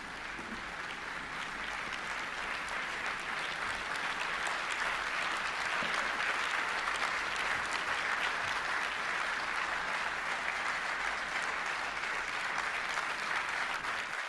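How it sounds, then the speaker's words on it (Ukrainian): An audience in a conference room at the Warsaw Security Forum applauds in a long, steady, even patter of many hands, heard from some distance and fading out only at the very end. "Я сподіваюся, ви почули ці оплески на рахунок ваших слів, які зрезонували в цій кімнаті."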